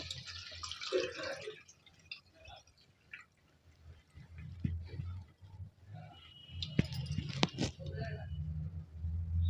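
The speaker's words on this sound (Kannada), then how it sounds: "ನಾನು ನೀರು ಬಗ್ಗಿಸ್ಕೊತ ಇದ್ದೀನಿ ರವೆ ಇದರಲ್ಲೆಲ್ಲ ಹೋಗ್ಬಿಡುತ್ತೆ ಅಂತ ಈ ರೀತಿ ಇಟ್ಕೊಂಡು ಬಗ್ಗಿಸ್ಕೊಳ್ಳಿ" Water is poured off semolina soaking in a kitchen bowl for idli batter, giving uneven trickles and drips, with a louder splashy pour near the end and a voice talking intermittently.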